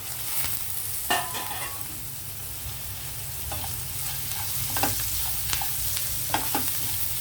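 Green chillies and curry leaves frying in hot oil, a steady close sizzle with intermittent crackles and spoon scrapes, heard alone without talking.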